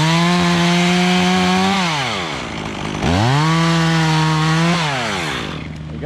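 A chainsaw cuts a hinge notch into a tree during rigging work, revving up and down through two loud cuts with a short drop to idle between them, close and alone.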